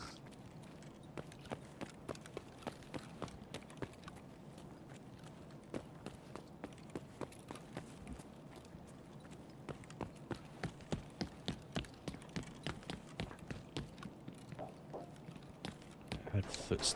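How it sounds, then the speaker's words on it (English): Footsteps in the game Escape from Tarkov: a run of quick, fairly faint steps thudding in a steady rhythm that grows louder and closer toward the end. "heard footsteps this way"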